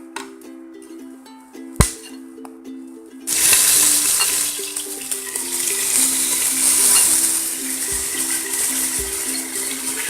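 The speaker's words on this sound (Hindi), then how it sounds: "मटन को कलर चेंज होने तक फ्राई कर लेंगे।" Mutton hits hot oil already fragrant with fried garam masala for a Mughlai korma, bursting into a loud, steady sizzle that continues to the end after a brief metallic clink.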